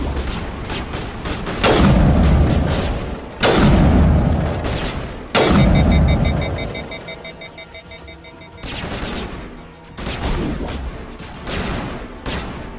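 A sniper rifle fires in Mass Effect Legendary, five heavy booming shots spaced a second or two apart, each ringing out with a long echoing tail, with game sounds beneath and no talking.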